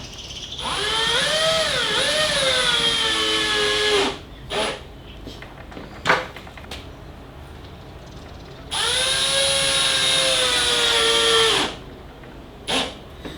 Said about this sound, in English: This is a Milwaukee 12 volt cordless drill with 18 settings for the clutch